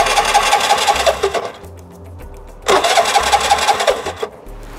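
Starter of a Vespa LX 150 scooter cranks in two loud, buzzing bursts with the key on, each about one to two seconds long and separated by a quieter pause, but the engine never catches.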